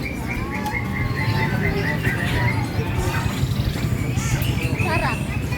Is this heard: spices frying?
no